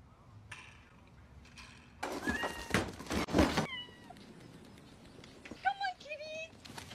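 A kitten meows several times, short rising cries close by, after a loud burst of clatter and thumping, with a person calling softly to it.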